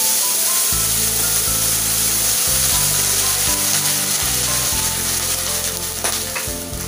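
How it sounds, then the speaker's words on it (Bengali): Water poured into a hot pan of fried lentil dumplings, giving a loud, steady sizzling hiss close up, with a low droning hum running underneath. "এবার জল দিয়ে দিচ্ছি।"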